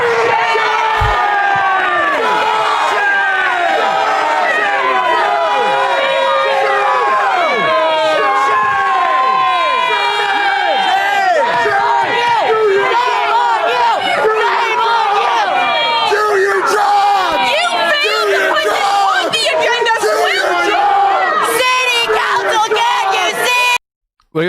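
A large crowd of rioters inside New Orleans city hall shouting, cheering and yelling together, loud and continuous for the whole stretch with many overlapping voices.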